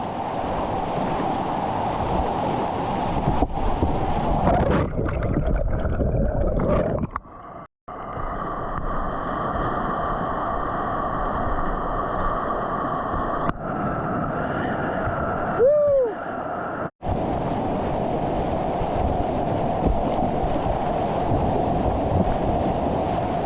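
Loud, continuous rushing whitewater of the Upper Rustic stretch of the Poudre River, Colorado, fills the scene, broken by a few abrupt cuts and muffled underwater-like stretches, with wind buffeting the microphone.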